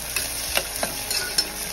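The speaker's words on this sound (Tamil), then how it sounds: "பூண்டு, கருவேப்பிலை எல்லாம் நல்லா சேர்ந்து நல்லா வதங்கிடுச்சு" Garlic, onion and curry leaves sauté in hot oil for a Sepa kilangu kara kulambu, giving a steady background sizzle broken by a few soft scrapes of a stirring spoon.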